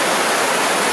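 Waterfall in Croatia or Slovenia roaring steadily, a dense, continuous rush of falling water close by and loud, with no voices over it.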